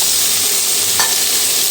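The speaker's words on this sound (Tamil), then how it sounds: "அதே பேன்லேயே இப்போ நம்ம தக்காளி பழம் சேர்த்துக்க போகிறோம்" Ripe tomatoes frying in a pan, giving a dense, steady, loud sizzle with a brief soft stir near the middle; no voice.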